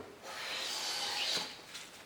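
A low-angle hand plane takes a fine cut in wood, making one smooth, steady shaving rasp of about a second and a half, close and quiet, with no voices.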